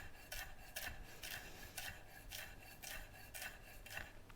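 A knife slices herbs and chilli thinly on a board for ceviche, with about eight quick, evenly spaced rasping cuts close by and faint.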